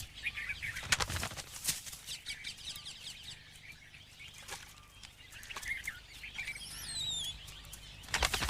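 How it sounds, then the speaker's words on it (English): Peacocks sparring at a waterhole burst into sharp, close wing flaps in a few separate flurries, with faint bird calls and chirps between them against a quiet outdoor background. "The cocks are sparring for a patch of ground to call their own."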